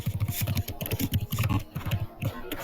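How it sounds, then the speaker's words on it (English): Rapid, forceful typing on a computer keyboard, hard key strikes in quick uneven bursts, close and loud with no voices. "Somebody's angrily typing."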